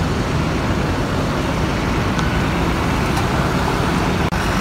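A Pelalai intercity bus idles in a roadside restaurant stop in West Sumatra, getting ready to leave for Jakarta; its engine gives a steady, loud rumbling drone with traffic noise around it and one brief dip near the end.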